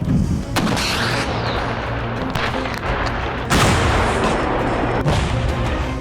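Heavy artillery bombardment in the Russia-Ukraine war, with repeated deep booms and blasts over a constant rumbling roar, loud and dense.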